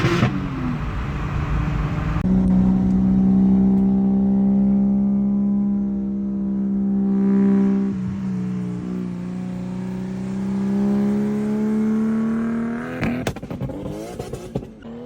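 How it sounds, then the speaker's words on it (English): A fully built Toyota Supra with a budget turbo kit on Mickey Thompson ET Street tires accelerates hard, its engine note climbing steadily through the gears, loud and close, with a brief clatter near the end. "Let me show you guys these clips here that Moose got of me whenever we're coming home."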